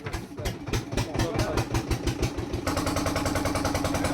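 A boat engine chugs in a steady, rapid pulsing rhythm close by, thudding and even throughout, with a brief change in tone partway through; voices are faintly present in the background.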